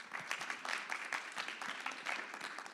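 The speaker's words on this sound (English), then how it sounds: "give him a round of applause" A breakout-session audience claps for a speaker in a steady, even burst of many hands that holds the whole time, moderately loud with no voices over it.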